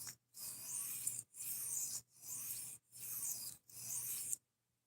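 A blade is drawn across a coarse 140 grit sharpening stone in five even rasping strokes, each a gritty scrape separated by short pauses, close and fairly quiet.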